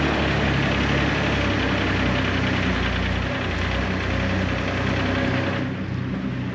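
A Jeep TJ drives through an underground garage, its engine a loud, steady, rumbling drone that echoes in the enclosed space and eases slightly near the end.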